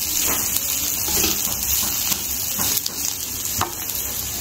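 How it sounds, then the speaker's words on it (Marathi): Bay leaf sizzling in a pan with sautéed onions and spices for Kashmiri dum aloo, a steady close crackle with a few scraping stirs and no talk. "आता जे टाकणार आपण हे घेतलेलं तमालपत्र, हे पण परतून घ्यायचं।"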